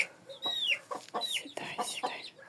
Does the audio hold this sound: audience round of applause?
no